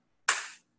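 A single sharp hand clap from an online beginners class, one crisp burst that decays quickly, alone with no talking.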